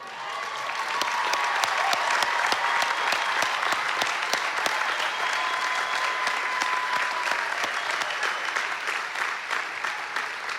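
Audience at a Brown University commencement ceremony applauds magna cum laude graduates, a large crowd's sustained clapping rising quickly and holding steady, with faint background sound beneath.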